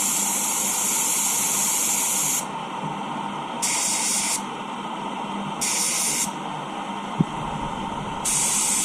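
A paint spray gun, a starter jet 4000 RP with a 1.2 tip, is cleaned out in bursts of loud hissing spray that alternate with a steadier background hiss, repeating about four times.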